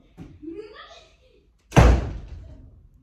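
A house door with freshly oiled hinges swings shut with one solid, loud thump after a moment of brief background voices, then the sound decays into the room.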